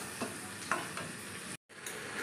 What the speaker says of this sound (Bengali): এর মধ্যে আদা বাটা, লঙ্কা হলুদ গুঁড়ো সব দিয়ে এটা নাড়াচাড়া করে করে ভাজা ভাজা করব।